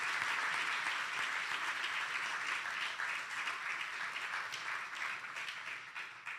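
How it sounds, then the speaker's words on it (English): An audience at an Alpha Phi Alpha fraternity Honours Day convocation applauding the brothers, a full, steady wash of clapping that holds strong then gradually thins toward the end. "Give them a round of applause."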